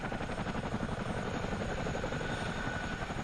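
A CH-47D Chinook helicopter in a flight simulator game gives a constant, loud engine drone with a rhythmic rotor thump that does not change from start to finish. No voices are heard.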